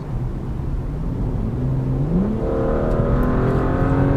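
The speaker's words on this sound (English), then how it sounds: "The engine sounds great. It pulls down from low revs." A BMW 435i (F32) engine revs up smoothly, its pitch climbing steadily as it accelerates from low revs, loud and close with no talking.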